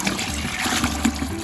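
A gallon of water is poured into a jar of saved apple cores, giving a steady, close splashing trickle that carries on without a break.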